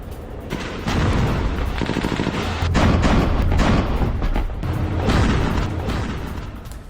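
Israeli bombing in Gaza, heard as news footage: loud, dense rumbling booms and crackling bursts roll continuously, swelling and fading across several seconds with no clear gaps.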